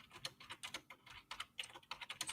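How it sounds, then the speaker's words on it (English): Frantic typing on a computer keyboard, a rapid, continuous clatter of keystrokes that keeps going without a break for a couple of seconds, with no voices over it. "Is that you typing frantically?"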